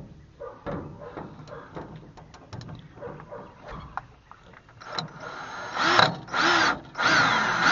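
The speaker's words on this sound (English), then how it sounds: "my drill bit decided to break on me" A power drill bores into the metal frame of a garden trailer, starting with scattered clicks and clunks and then rising into loud, close whining bursts that stop and restart in pulses.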